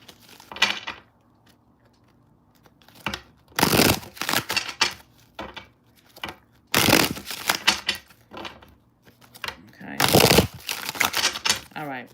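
Tarot cards are shuffled in several loud, crisp riffling bursts spread between pauses, with a voice speaking quietly in the gaps.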